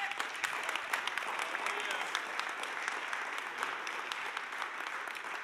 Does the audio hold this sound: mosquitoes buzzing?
no